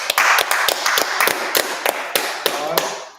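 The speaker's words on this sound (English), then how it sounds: "Clap it up." A congregation at a Sabbath service claps in sharp, uneven bursts, individual hand claps ringing out over a loose rhythm before thinning toward the end, close and lively in a room.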